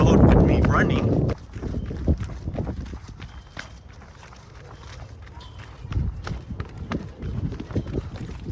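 Rapid footsteps of a person running outdoors, a steady patter of near, fairly loud footfalls with wind rumble over the microphone, and a brief voice at the start.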